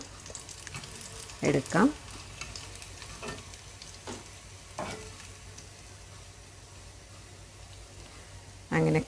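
Paneer popcorn fries in hot oil with a soft, continuous sizzle, broken by a few scraping stirs and clatters, while a voice briefly speaks over it.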